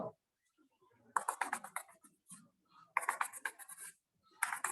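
Marker or chalk drawing a figure on a board in a class 12 physics lesson on electric field lines: repeated short scratchy strokes in bursts with pauses between, fairly close, with no talk over them.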